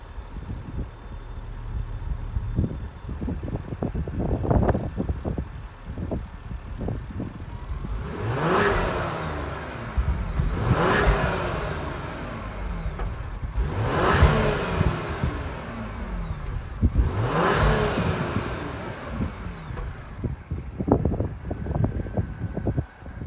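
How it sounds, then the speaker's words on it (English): A 2024 Ford Explorer ST with its 3.0-liter EcoBoost V6 idles and is revved four times in steady succession, each rev rising sharply and falling back, heard up close. "let's take a listen to see how this baby sounds"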